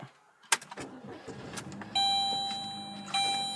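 A 2003 Saturn Ion with a 5-speed manual is started, with a few clicks and thumps followed by the engine catching into a steady idle hum. A faint electronic chime tone sounds alongside the running engine.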